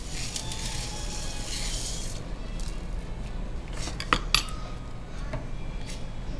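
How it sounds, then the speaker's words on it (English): Rice being stirred into a pot of boiling water, a steady bubbling hiss with a spoon scraping and clinking against the pot near the end. "while I'm stirring it, I'm gonna add my rice to that"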